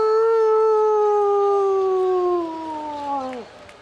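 A voice imitates a dog howling at the moon during a WCW Thunder wrestling broadcast: one long, loud, close howl that slides slowly downward in pitch and cuts off sharply after about three and a half seconds.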